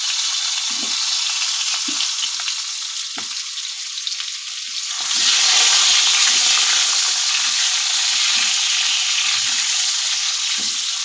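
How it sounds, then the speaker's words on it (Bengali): Potato pieces fry in leftover oil in a kadai after fish, a steady bright sizzle that grows louder and denser midway, with occasional soft knocks of stirring underneath. "আলুটা বেশ একটু লাল লাল করে ভেজে নেব।"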